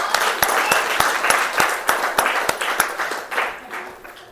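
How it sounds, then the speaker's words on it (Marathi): Audience applause at a Buddhist scripture recitation gathering, with clear individual claps landing in a fairly regular rhythm over a bed of scattered clapping, close and lively, thinning toward the end. "अनुसयाताईसाठी जोरात टाळ्या वाजवा"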